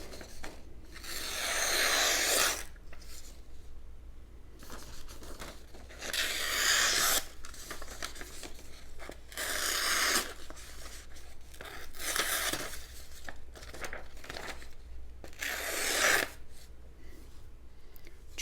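An Eafengrow EF148 full-tang fixed blade knife saws through material in repeated rough, scraping strokes, each burst of tearing friction followed by a short pause. The strokes are close and moderately loud, with no voices.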